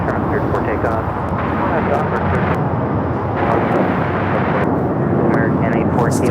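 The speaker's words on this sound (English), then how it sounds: "Now the Volaris rolling down that 25 right." A Volaris Airbus A320 takes off on runway 25 right at LAX, producing a loud, steady jet engine roar throughout while someone talks over it.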